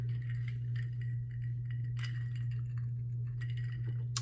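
A glass of Bullet Bourbon gives light clinks and taps scattered over a steady low electrical hum, close and fairly quiet, with no speech.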